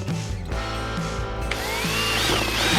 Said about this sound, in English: Now you're just gonna drill the first one. 2 holes.